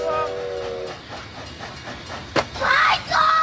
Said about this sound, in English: That train's gonna run right through him.